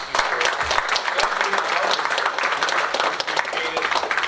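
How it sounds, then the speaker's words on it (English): A conference audience applauds a speaker after a talk on Remote Falcon, a tool that lets viewers control a light show; steady dense clapping fills the whole stretch at a fairly loud, even level without letting up. "let's give James a round of applause"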